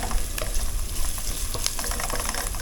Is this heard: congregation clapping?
no